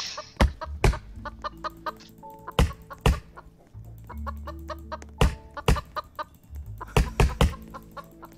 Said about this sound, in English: I love that axe just because of how fast it is. And it makes a chicken sound.